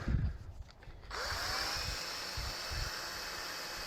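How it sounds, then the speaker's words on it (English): A cordless drill with a low battery starts up after a few knocks and whirs steadily with a high motor whine, close by. "Should have charged my drill."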